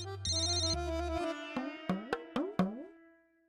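A landline telephone ringtone in a home plays a bright electronic melody of sustained tones, then a run of plucked notes that ring out and fade, loud and clear with no voices.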